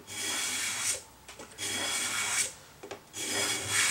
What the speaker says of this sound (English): We just keep scraping until they've all disappeared.